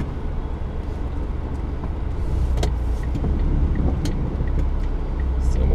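Heavy road traffic rolls along the Lungotevere riverside road in Rome during a rainstorm, a steady close drone of car engines and tyres with occasional brief higher swishes of passing vehicles, no voices.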